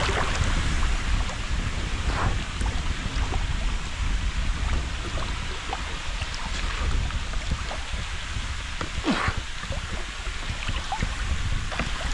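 Rushing water at a waterfall, a loud continuous roar with wind buffeting the microphone, steady throughout with no voices.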